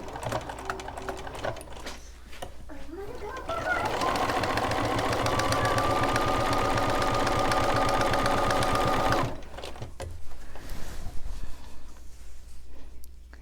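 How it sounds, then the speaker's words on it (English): A sewing machine runs a quarter-inch seam along quilt binding, starting with a short back stitch burst, then a steady rapid needle chatter for several seconds before stopping, close and alone without talk. "what we're going to do is sew a 1/4 inch seam all the way around"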